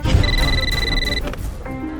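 A telephone rings in a dramatized Indian crime show, a steady electronic trill of bright tones held for about a second, then cut off, over a low background murmur.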